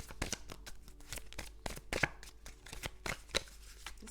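A tarot deck is shuffled in rapid, close, continuous strokes, with dense papery slaps and riffles repeating quickly over a low steady hum, with no voices.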